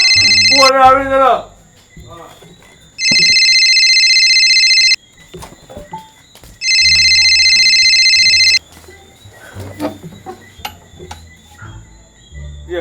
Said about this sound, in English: Phone are ringing up.